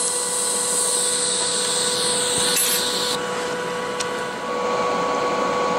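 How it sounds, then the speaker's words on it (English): A tungsten electrode for TIG welding is ground on a bench grinder, a sustained high whine with a gritty rasp, steady and close, shifting in pitch as the grinding stops partway through. "and a tungsten to grind."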